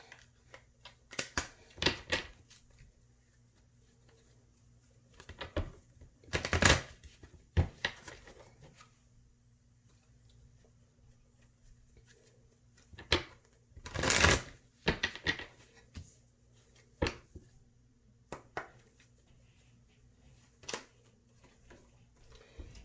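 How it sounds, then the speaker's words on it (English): Angel romance oracle cards are shuffled and pulled in scattered bursts of papery riffling and snapping, with longer quiet stretches between the louder shuffles. "Pull some angel romance cards."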